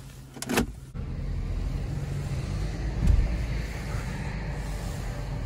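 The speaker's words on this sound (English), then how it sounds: "I'm going to drive it around the lot." A 2018 Dodge Journey SE moves slowly around a parking lot, its steady engine drone and road hum heard from inside the cabin after a brief mechanical whir at the start.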